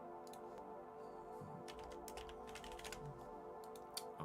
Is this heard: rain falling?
no